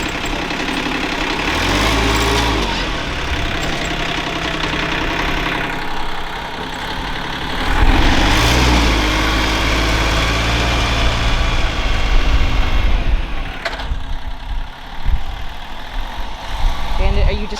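A tractor engine idles with a deep, steady rumble and some rattling vibration, its pitch shifting slightly at moments; a voice talks over it.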